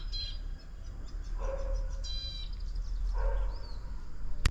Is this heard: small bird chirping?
yes